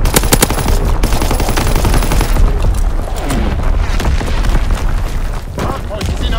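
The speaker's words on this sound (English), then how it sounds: "Firing primary battery." Warship primary battery guns firing in a naval video game: a loud opening volley of rapid heavy booms, followed by scattered distant blasts and rumble, with game radio chatter over the action.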